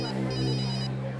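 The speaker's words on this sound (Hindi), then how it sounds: "सर का फोन," A phone ringtone plays loud and close for a moment, a steady electronic tone with bright, repeating high notes, carried along without any talk.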